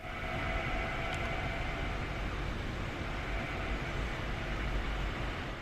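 Rapid transit train in the Train Sim World game, a steady, loud rumbling roar of running carriages with a broad hiss, constant throughout.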